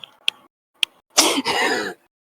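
A voice imitates spitting during a tabletop fantasy game: a few short clicks and spitting sounds, then a longer breathy hawking spray that fades out.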